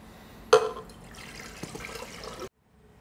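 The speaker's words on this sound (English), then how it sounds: "We're just going to pour it into our pot and let it start to heat up." Conditioned water poured into a kettle pot for coffee brewing, a sudden splash settling into a steady filling stream for about two seconds before stopping abruptly, close and clear.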